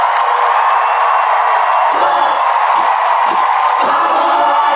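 Packed rally crowd in Charleston, West Virginia cheering after a Bernie Sanders speech, a loud, continuous roar with bursts of whoops and shouts, no voices speaking over it.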